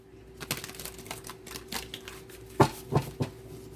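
Cards are shuffled nearby with scattered soft riffles and sharp taps, a few louder clicks near the end, against a low steady hum.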